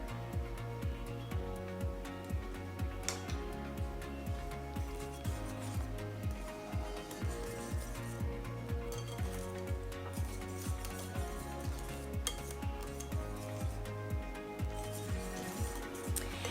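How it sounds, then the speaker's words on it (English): Pumpkin pie spice whisked into tartlet filling in a bowl, with a steady rhythm of soft, quick clinks and scrapes from the whisk repeating throughout, fairly quiet and close. "sprinkle that in, and just go ahead and whisk all of that together"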